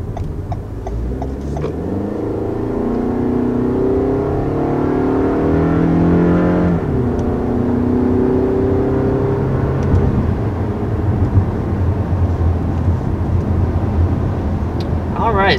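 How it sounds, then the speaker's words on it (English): A 2020 Toyota Camry with the four-cylinder engine accelerates from a stop, its engine tone climbing through rising sweeps with a gear-change dip midway, then settling into a steady, loud road roar heard from inside the cabin. "that was our first takeoff here in the 2020 Camry"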